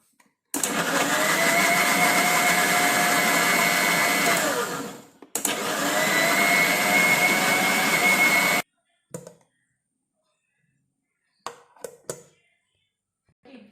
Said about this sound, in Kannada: ಇದನ್ನ ಗ್ರೈಂಡ್ ಮಲ್ಪುಗ